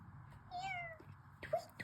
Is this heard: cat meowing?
yes